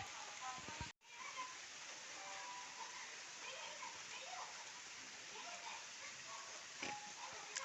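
Light drizzle starting outside, heard as a faint, even patter and hiss with a brief dropout near the start and a soft murmur of distant activity underneath.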